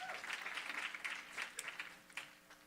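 Audience applause at a special education town hall greets a state representative's introduction, a dense, steady patter of many hands clapping at moderate distance, with a few sharper claps standing out before it thins toward the end.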